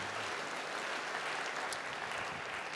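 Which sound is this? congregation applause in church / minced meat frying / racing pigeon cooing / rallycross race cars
congregation applause in church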